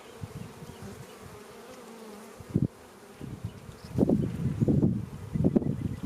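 Honey bees buzz during an inspection of a weak backyard hive, a close, continuous drone with louder swells as bees move near.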